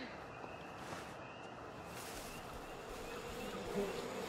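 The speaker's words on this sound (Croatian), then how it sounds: "Ok, to su pčele." Bees buzzing in the video game We Happy Few, a continuous droning hum at moderate distance that swells slightly toward the end, with faint talk underneath.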